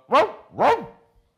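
A neighbouring dog across the street barks twice, close and loud, each bark sharp and clear with a short gap between, then silence.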